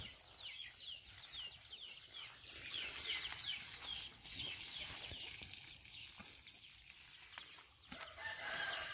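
Chickens cluck and crow faintly in the distance amid rustling outdoor ambience, with wings flapping now and then.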